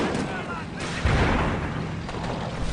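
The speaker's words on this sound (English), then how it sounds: "Mortar rounds are coming in." Incoming mortar rounds pound a video game battlefield in a dense, rolling rumble of distant impacts, with one sharper, louder blast about a third of the way through. A commentator talks over the barrage.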